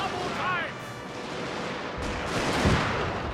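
Rear-rank British musket volleys crack out in a Total War battle at a fort in the Anglo-Zulu War, heavy booming shots rolling under scattered in-game voices and battle noise.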